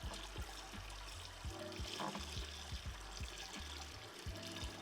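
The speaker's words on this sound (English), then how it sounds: "this is 15 litres of sparge water at 77 degrees Celsius" Fifteen litres of hot sparge water at 77 degrees Celsius is poured for a home-brewed lager, producing a steady, noisy rush and splash with a low rhythmic knocking underneath, fairly faint overall.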